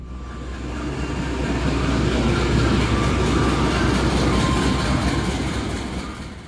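Turangga passenger train running from Surabaya to Bandung at night, heard as a loud, steady rolling rumble with rhythmic clickety-clack from the wheels that holds throughout, with no voices.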